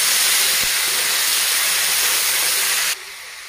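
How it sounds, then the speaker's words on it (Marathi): Tomatoes are tipped onto fried onions in a hot pan, setting off a loud, dense sizzling hiss that holds steady before dropping abruptly to a quieter simmer near the end. "आपला आता कांदा तळलेला आहे। मी त्यात टमाटर टाकते"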